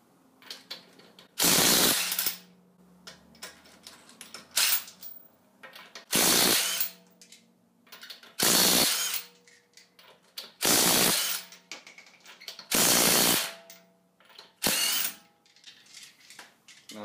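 A Milwaukee FUEL brushless impact driver loosening a wheel nut fires in about seven loud, rattling hammering bursts of a second or so each, separated by quiet pauses, close up.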